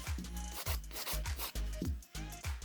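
A nail file rubs back and forth over gel on a nail, giving quick rhythmic rasping strokes, about eight in a row, close and fairly quiet with no talking.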